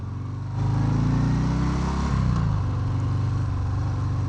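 A Harley-Davidson FXDR with a 114 engine and 2-into-1 exhaust rumbles loudly on a test ride, a deep throbbing exhaust note that swells briefly as it revs, then settles into a steady pulsing drone.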